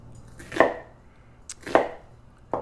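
Knife chopping vegetables on a cutting board while quartering and slicing them for pepper steak, three crisp separate cuts spaced about a second apart, close and clear with no talk.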